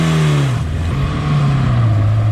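A 1970s superbike motorcycle engine revs loud and close, its pitch dipping and then climbing steadily as the bike pulls away.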